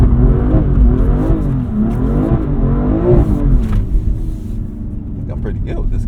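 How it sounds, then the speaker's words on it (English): BMW M2 with stability control off spinning a donut, its engine note rising and falling in repeated revving swells under a steady low rumble, loud and close throughout. "And I should be able to freely do a donut this way."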